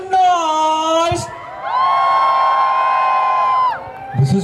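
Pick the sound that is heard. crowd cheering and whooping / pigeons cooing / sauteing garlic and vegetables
crowd cheering and whooping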